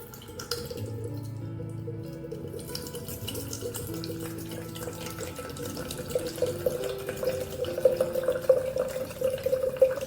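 500 ml of unfiltered apple cider vinegar poured into a pot, a close, steady liquid stream whose gurgling tone rises as the vessel fills, with no talking.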